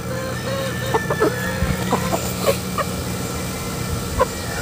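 Boston Sweater gamefowl roosters crowing and clucking close by, with several short calls and clucks scattered over a steady background hum.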